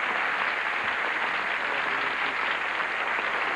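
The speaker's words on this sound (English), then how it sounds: "Applause, applause, applause." Dense, steady studio audience applause on the TV game show Match Game, welcoming a new contestant; a sustained wash of clapping with no pauses, evenly loud throughout.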